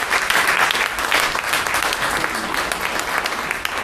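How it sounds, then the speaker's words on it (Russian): Loud, sustained audience applause fills the room at a guitar and poetry knights' tournament music evening, dense clapping continuing steadily throughout with a faint murmur underneath. "Под ваши бурные аплодисменты."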